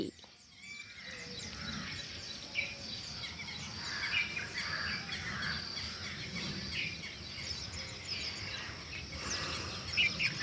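Small birds chirp and twitter repeatedly against a steady outdoor hum, their short high calls scattered throughout at a moderate distance.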